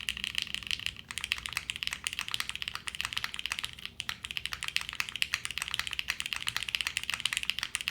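Fast, continuous clacking keystrokes from an Arc60 plateless mechanical keyboard, close and crisp, with a couple of brief pauses in the steady rhythm.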